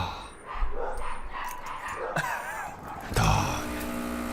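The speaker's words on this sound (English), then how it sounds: "See those dogs, I swear. Listen to this. That's so obnoxious." Several dogs barking outside a car, sharp barks and yips coming in bursts, loud and close at moments, with interior road noise underneath.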